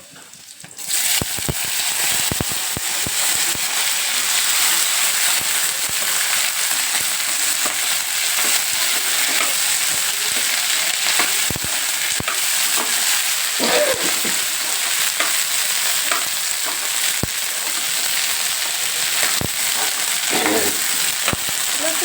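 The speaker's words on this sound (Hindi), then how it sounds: "भिंडी बन के तैयार हो रही है।" Okra fries in a pan with a steady, dense sizzle that lasts throughout, broken by occasional scraping and clicking strokes as it is stirred, close by with no talking.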